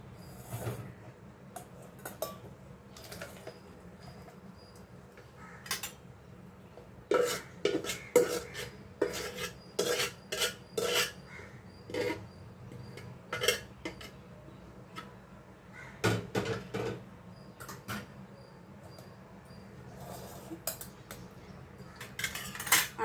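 Metal utensils and a pot clink and tap in scattered bursts while boiled drumstick leaves are strained in a home kitchen, with a steady low hum underneath and no talking.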